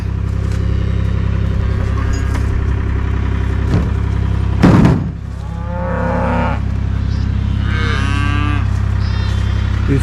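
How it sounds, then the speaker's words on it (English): A cow that has just given birth to a calf near a creek moos a few times in the open, with a low engine hum running steadily underneath. "it looks like that cow just had a calf"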